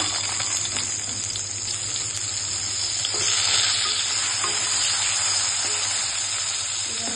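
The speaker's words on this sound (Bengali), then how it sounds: "তারপরে এই কুমড়োগুলোকে দিয়ে দিচ্ছি" Pumpkin pieces frying in a pan with nigella seeds and green chillies, a steady close sizzle throughout with faint stirring scrapes, swelling slightly louder midway.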